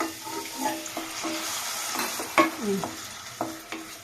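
Fish roe is stirred in a pan with chopped tomato and a little water, giving a bubbling sizzle punctuated by repeated spatula scrapes and knocks, moderately close.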